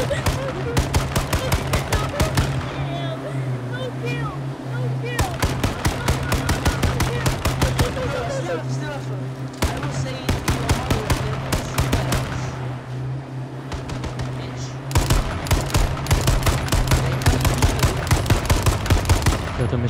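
Dense bursts of rapid automatic gunfire from the video game H1Z1 Battle Royale, repeated volleys across the whole stretch with a steady low hum beneath.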